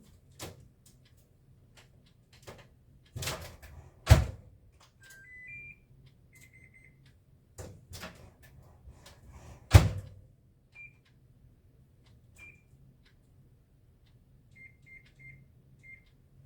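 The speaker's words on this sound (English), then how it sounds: "now I would like to preheat my oven" An oven being set to preheat: a series of short electronic beeps from its keypad between scattered clunks and thumps of handling nearby, with quiet pauses in between.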